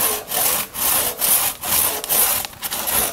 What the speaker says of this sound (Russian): Вот, пожалуйста, пилят клен.